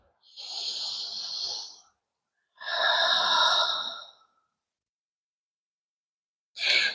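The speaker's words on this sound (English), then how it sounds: "Deep inhale. Deep exhales. Just breathe with me." Three deep, slow breaths taken during a yoga stretch: two long airy exhales of a few seconds each, separated by silence, then the start of a third, close and clear with no talk.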